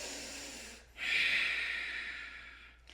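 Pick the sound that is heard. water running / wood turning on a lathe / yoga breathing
yoga breathing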